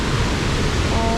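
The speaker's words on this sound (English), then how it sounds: "the waterfall." Krang Shuri waterfall in Meghalaya, swollen with rain, gives a steady, full rushing roar of falling water that fills the scene without a break.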